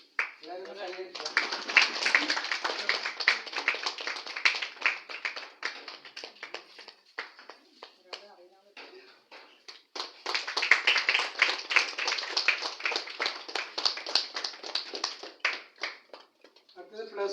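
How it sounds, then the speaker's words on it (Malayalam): An audience at an award ceremony claps for a recipient in two bursts of brisk, scattered handclaps, fairly faint and separated by a short pause, with a voice speaking between them. "എല്ലാവരും കൈയടിക്കുക"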